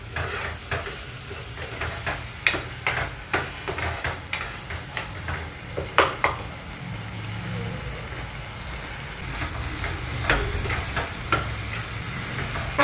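Masala paste ground in a mixer is poured into a hot pan of paneer bhurji, which sizzles steadily while a spoon scrapes and stirs in a run of close, uneven clinks.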